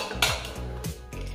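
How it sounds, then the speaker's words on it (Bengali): Metal clanks of a pressure cooker lid being fitted and locked into place over a pot of potatoes in water, a few close, sharp knocks and scrapes in quick succession. "এবার কুকারের ঢাকনাটা আটকে দিচ্ছি।"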